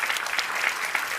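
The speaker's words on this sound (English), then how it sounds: "Please give a round of applause for our panelists" Audience applause for the panelists at a human rights conference, a steady, dense patter of many hands clapping throughout, fairly near and even in loudness.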